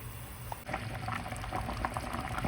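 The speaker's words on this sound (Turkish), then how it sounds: "Daha kaynayacak." Watermelon rind jam with cinnamon sticks simmering in a pot, a steady, close bubbling with soft pops and gurgles throughout, no voices.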